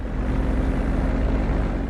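An airplane engine hums steadily in GTA V, a constant droning roar with no change in pitch that stays close and loud throughout, with no talking over it.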